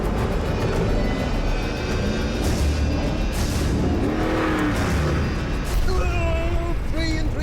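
A heavy three-and-three-quarter-ton Mercedes off-roader climbs big desert sand dunes, its engine roaring loudly and continuously under strain as it labours up the slope, with someone talking over it near the end.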